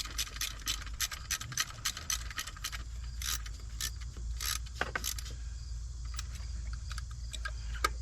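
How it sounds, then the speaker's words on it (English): A ratchet tightens three 10mm bolts on a Mini Cooper R50, first with a fast run of sharp, close clicks, then with sparser clicks and scrapes over a low steady hum, without speech. "go ahead and tighten this up. 3 10mm bolts."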